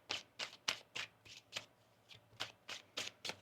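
A deck of tarot cards being shuffled by hand, about a dozen crisp riffling bursts in a quick uneven rhythm, close and clear with no talking.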